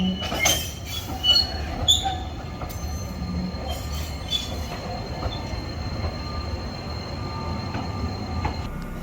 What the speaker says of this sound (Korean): 지금 열차가 들어오고 있습니다.